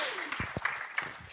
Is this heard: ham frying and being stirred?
no